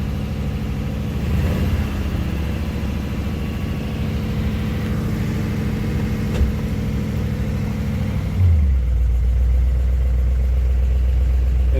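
A 1956 Ford Fairlane Victoria engine idles steadily and close with a low, even rumble, the choke coming off. Near the end the pitch drops and settles into a deeper, smoother idle, with no talk over it.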